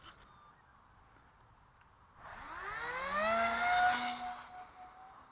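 Sky Hawk V2 RC model plane taking off on its maiden flight: after quiet outdoor ambience, a loud whining electric motor and propeller buzz rises sharply, climbs in pitch as it passes close, then recedes slightly.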